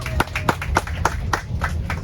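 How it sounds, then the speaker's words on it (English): A tour group on a day trip from Barcelona to Montserrat claps for their bus driver, a scattered round of a few hands with distinct, uneven claps close by and some faint murmur underneath. "Now, first I'd like to give a lovely round of applause to our amazing driver, Juanma."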